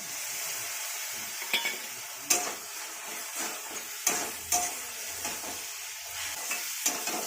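Spice paste fries and sizzles in oil in a pan for a Bengali kochur phool ghonto, with a steady hiss and occasional sharp scrapes and clicks of a spoon stirring it. Nobody talks over it.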